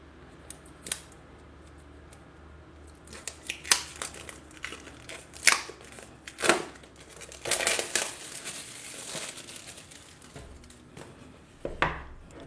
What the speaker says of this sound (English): grab a sharp object and cut through this material